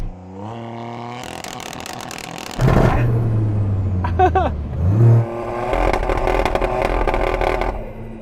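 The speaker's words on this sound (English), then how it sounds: "Is that you revving it, or is that you putting it in launch?" A 600hp Toyota GR Yaris with its small three-cylinder engine is held on the brake and floored for a launch, giving a loud revving burst that climbs and swells after a quieter start, with a rough rising tone mid-clip.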